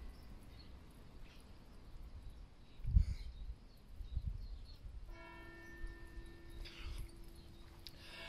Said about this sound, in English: The bells ring 5 past 7 in the morning, 5 past midday, and 5 past 7 in the evening.